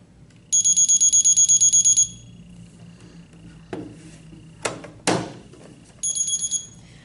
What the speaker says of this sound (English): Now your unit's alarm will sound to ensure the alarm tone is working.